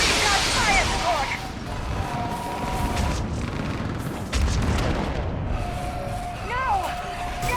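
Artillery fire support booms and crashes through a Mass Effect 3 battle, dense low rumbles and blasts rolling continuously under shouted dialogue, with a sharper hit near the middle.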